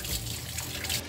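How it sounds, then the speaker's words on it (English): Lukewarm water runs from a tap into a sink, a loud continuous rushing and splashing close by, steady throughout with no talking. "So I'm just gonna fill this sink with some lukewarm water."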